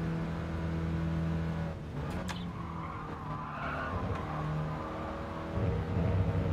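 Mini racing car in Gran Turismo Sport, a steady droning engine note with tire skids and squeals partway through, then the engine pitch rising again as it accelerates, loud and continuous.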